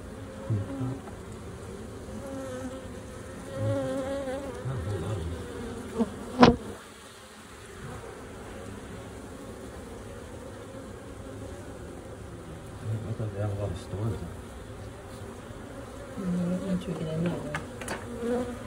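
A dense, steady buzzing of a swarm of bees in a barn in Jarrell, Texas, close and continuous, with a brief louder burst partway through.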